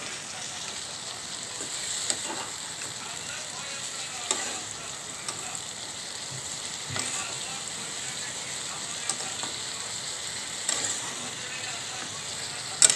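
Papaya stir-fry sizzles steadily in a pan, a continuous crackling hiss with occasional soft scrapes as it is stirred, no talking over it.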